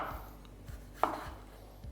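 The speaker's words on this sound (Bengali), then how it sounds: "সবার প্রথম আপনাদের এখানে কয়েকটা টমেটো কেটে নিতে হবে" Knife chopping tomatoes roughly on a board, a few soft, evenly spaced thuds with one sharper cut, close and quiet with no talk.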